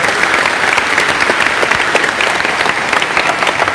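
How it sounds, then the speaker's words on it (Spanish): Church assembly applauding a brother at a gathering with Padre Luis Toro, loud sustained clapping from a large crowd filling the whole moment, dense and even with no speech. "Un aplauso para el hermano."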